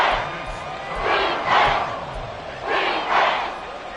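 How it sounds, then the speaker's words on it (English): A football stadium crowd roars in rhythmic rising waves ahead of a big third down, loud chant-like surges repeating about every second and a half. "the crowd getting into it as we come up on a big 3rd down"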